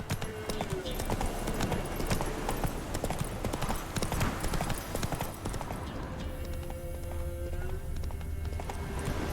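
A horse gallops in The Witcher 3 video game, with a rapid, steady clip-clop of hooves filling the clip and a brief neigh. Someone talks over the sound.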